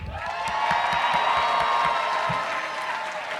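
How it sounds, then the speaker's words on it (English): Convention crowd at RuPaul's DragCon NYC breaks into loud applause with cheering and whoops, a sustained, dense roar of clapping that fades slightly at the end. "Hold for applause."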